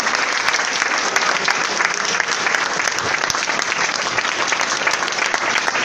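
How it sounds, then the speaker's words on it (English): Sustained applause from a seminar audience at a party in Mau, dense and steady clapping filling the room at close range for the full stretch, with no voice rising above it. "Please give a big hand for him."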